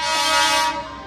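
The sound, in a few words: Siddipet MEMU train arriving, horn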